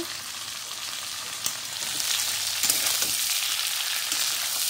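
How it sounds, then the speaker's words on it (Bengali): Green chilies frying in hot oil in a pan while cooking egg curry, a steady close hiss and sizzle running throughout with a few soft crackles and stirring clicks, no voices. "বড় আর 1 মিনিটে লঙ্কাটাও কমপ্লিট ফ্রাই হয়ে যাবে।"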